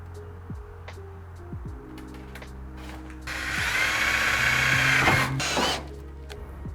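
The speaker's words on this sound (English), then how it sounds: "we're just gonna drill for the top, put our Cleco clamps in" A power drill bores holes through a car overfender for Cleco clamps on a 240SX, with a sustained whine lasting a couple of seconds amid scattered clicks and handling noises.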